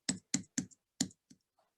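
Typing on a computer keyboard: five crisp, close keystrokes in an uneven rhythm, then a faint last tap in an otherwise quiet room.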